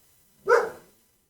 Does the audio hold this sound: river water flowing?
no